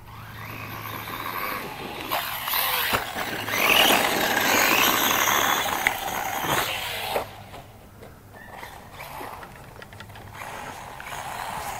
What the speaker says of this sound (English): Making some weird gear noises.